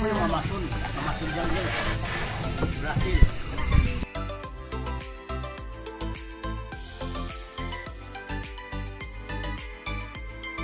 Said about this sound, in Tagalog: The sound of animals are real. May kuliglig.